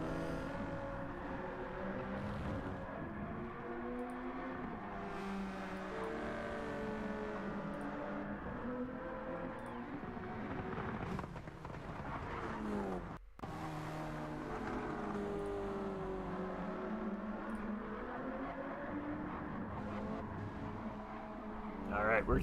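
GT3 race car engines at Spa in a racing video game, including a Ford GT, droning and revving steadily in the background while a commentator talks over them throughout.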